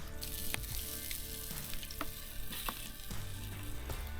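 Battered walleye fillets deep-frying in hot oil, a steady crackling sizzle close up with scattered sharper pops and faint clinks, no talking.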